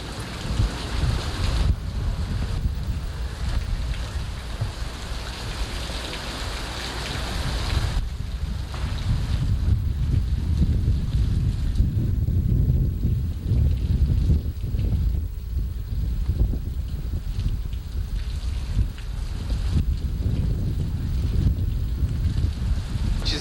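Strong, continuous wind gusts roar and buffet the microphone during a June 1994 thunderstorm, loud and close throughout, with rushing noise rising and falling and rain likely mixed in.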